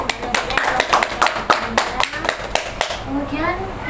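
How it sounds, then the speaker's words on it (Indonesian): A small group claps for a speaker at a nursing communication practicum health talk, a few distinct rhythmic claps fading out, with voices murmuring toward the end. "Tepuk tangan untuk Mbak Nabila"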